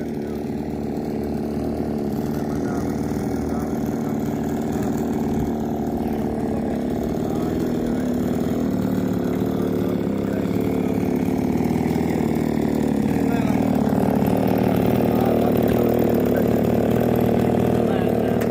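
A chainsaw cuts into a dry tree trunk outdoors, the engine droning loud and steady throughout and rising slightly in pitch as the cut deepens, with no pauses.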